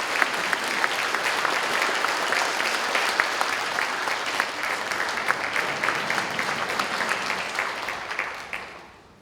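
A church congregation gives a warm round of applause to welcome a guest pastor at a spring revival service. The steady clapping lasts about nine seconds before fading out.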